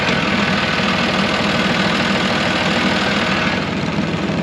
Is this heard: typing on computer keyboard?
no